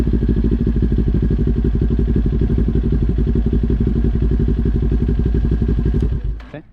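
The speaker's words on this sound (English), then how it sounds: "Our bike can start in neutral without any clutch because we have a Ninja 400." A Kawasaki Ninja 400 motorcycle engine idles close by with a steady, loud, rapid chugging rhythm, then cuts off and winds down to silence near the end.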